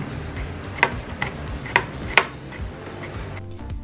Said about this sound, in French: prendre la gousse d'ail, qu'on va commencer d'abord par éplucher, pour ensuite l'émincer en tout petits morceaux